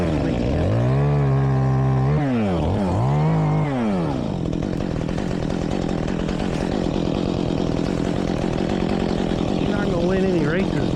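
A small, well-worn 211C chainsaw trims firewood up close, its engine revving and dropping in loud repeated surges before settling into a steady buzzing cut that runs through to the end.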